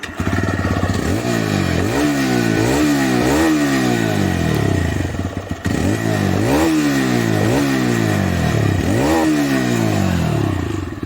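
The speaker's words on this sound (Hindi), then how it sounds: "अब सुन लेते हैं इसकी एग्जॉस्ट नोट किस तरह की आपको मिलती है।" A TVS Raider 125 motorcycle's exhaust note: the engine idles, then revs up in repeated sharp throttle blips that rise and fall, close and loud throughout, with a brief pause midway.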